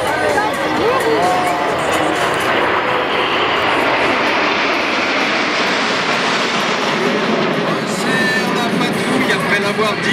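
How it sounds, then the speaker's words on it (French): Patrouille de France formation of jets rolling together at the 2011 Sion air show, a loud sustained jet roar sweeping past continuously, with crowd noise and announcer speech underneath. "Tous les avions en même temps en tonneau."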